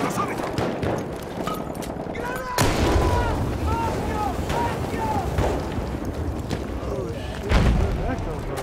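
Heavy booming mortar explosions rumble in a video game battle, a couple of strong blasts rising out of dense constant combat noise with voices talking throughout.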